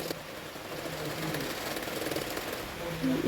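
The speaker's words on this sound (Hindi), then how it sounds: "जो एक्स्ट्रा फैब्रिक लगाया है अस्तर का फैब्रिक इसमें और एक सिलाई कर दूंगी।" A sewing machine stitches the extra lining fabric along the neck of a double katori blouse, giving a steady, fairly quiet mechanical whir throughout.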